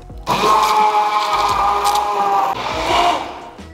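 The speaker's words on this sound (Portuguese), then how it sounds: "Eu tô usando um mixer de mão porque eu não consegui trazer o meu liquidificador pra cá" Handheld immersion mixer whirring through vegan, gluten-free carrot cake batter, a loud continuous buzz that starts abruptly, dips briefly and runs for a few seconds before stopping, with no speech.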